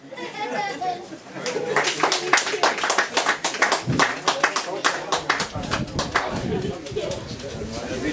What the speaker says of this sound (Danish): der må godt klappes lidt